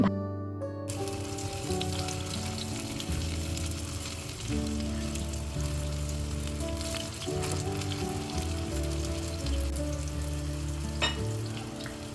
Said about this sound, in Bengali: এরপর এগুলো উল্টিয়ে পাল্টে ভালো করে ভেজে নিয়েছি।